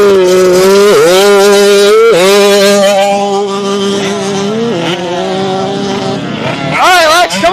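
A dirt bike engine at a motocross training camp at East Fork MX, loud and close, revving in repeated surges as throttle is added, each blip rising and falling in pitch, with a final sharp rev near the end.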